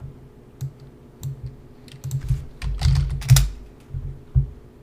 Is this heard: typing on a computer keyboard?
yes